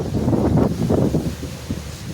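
Wind gusts across an open millet field outdoors, a steady low rumbling buffet against the microphone with rustling, louder at first and easing toward the end, with no voices.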